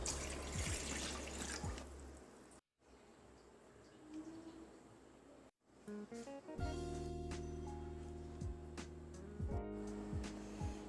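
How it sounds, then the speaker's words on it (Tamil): Water poured into a pot for boiling tomatoes, a steady close pouring and splashing that runs several seconds with brief cuts, then gives way to faint clinking and kitchen sounds. "ஒரு பாத்திரத்தில் தக்காளி வேகிற அளவுக்கு தண்ணி ஊற்றிக்கலாம்"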